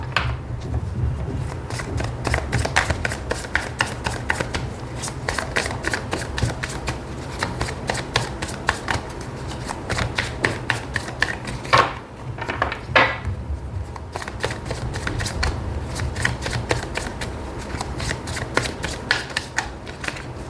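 Tarot cards shuffled by hand for a reading, a steady run of quick papery riffles and flicks carrying on close and fairly loud for the whole stretch, with no talking.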